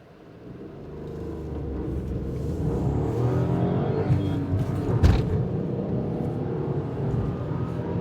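A Skoda Kylaq car accelerates hard from a standstill toward 100 km/h, its engine note swelling into a sustained, rising roar that stays loud and close throughout, with no talk over it.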